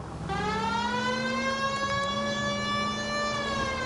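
A police car siren wails loud and close, a steady rising and falling tone with rich overtones that carries on unbroken throughout, with no voices over it.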